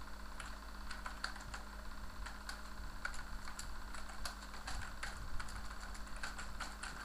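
Keys clicking on a computer keyboard in quick irregular bursts of taps, close and fairly faint over a steady low background hum.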